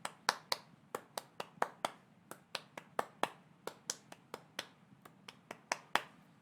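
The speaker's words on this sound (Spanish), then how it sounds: "Vamos a intentarlo primero en palmas." Rhythmic hand clapping in a workshop on popular songs in Indigenous languages, a steady pattern of sharp, close claps in uneven groupings, played alone with no talking.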